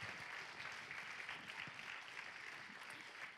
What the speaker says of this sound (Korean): 다시 한번 뜨거운 박수